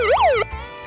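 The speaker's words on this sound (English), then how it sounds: "It's got a little siren." A short electronic siren sweep from a small emergency radio, rising and falling once, bright and piercing, cutting off abruptly after under half a second.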